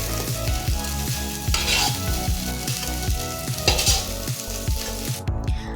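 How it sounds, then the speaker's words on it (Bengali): Marinated soybeans fry in mustard oil in a wok, giving a steady sizzle with occasional stirring, all under continuous background music. "এরপর সয়াবিনগুলোকে হালকা লাল লাল করে ভেজে একটা পাত্রে তুলে রাখুন।"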